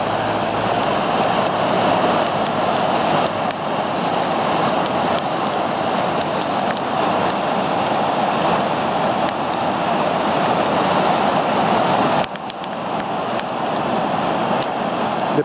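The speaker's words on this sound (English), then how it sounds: "They're pushing it down with the force of the water, with the hose." Water from a hose washes granite chips down into a lake, a steady broadband rush and splash that runs continuously without talk, dropping slightly in level near the end.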